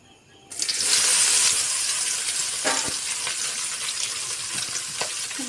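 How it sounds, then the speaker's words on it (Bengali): Soybean chunks hit hot oil in a wok with a sudden loud, sustained sizzle that crackles steadily, with a couple of faint clinks partway through. "সয়াবিন ভাজার জন্য"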